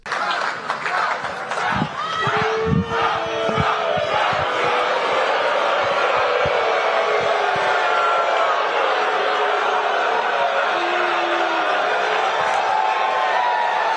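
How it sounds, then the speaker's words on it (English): A large crowd at the Libertarian Convention boos loudly and continuously, a dense sustained roar of many voices with a few louder shouts near the start, filling the whole stretch. "you can hear the boos in the crowd"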